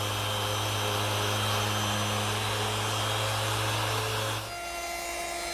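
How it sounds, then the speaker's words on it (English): A drum sander smooths the sawn wood edges of shelves, giving a loud, steady whirring drone with a low hum that drops off and changes character near the end. "Now my drum sander does a nice job smoothing up the sawn edges."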